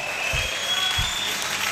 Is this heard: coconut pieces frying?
no